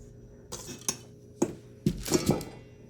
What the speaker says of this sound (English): We're going to whisk my ingredients together.